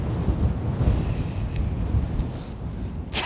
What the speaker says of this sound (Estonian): Oi, mis tuuleke siin on.